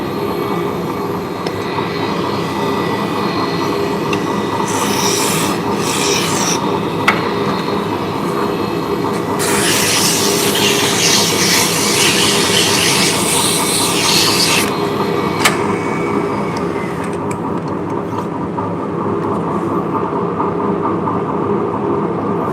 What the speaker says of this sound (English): So we are turning shafts for Turkish drop spindles.